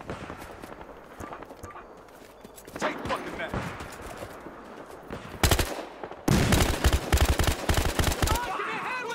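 Gunfire in the video game Battlefield Hardline: sparse shots at first, then loud, rapid automatic bursts that grow denser and closer toward the end, alongside footsteps and movement.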